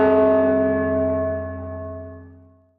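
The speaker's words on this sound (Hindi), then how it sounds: "तभी ऊपर की तरफ से एक घंटी की आवाज आई।" A single bell, heard from overhead, strikes once and its rich metallic tone rings out with a long, slowly fading decay, standing alone in quiet.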